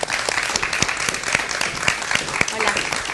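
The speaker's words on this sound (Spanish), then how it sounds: "quiero que recibamos con un aplauso también a Carla Astorga" An audience claps to welcome a speaker to an environmental talk, a loud, close round of individual claps running through the whole moment.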